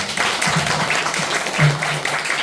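Applause from a small business association audience after a lecture: a steady, moderately loud wash of clapping with a voice briefly heard over it.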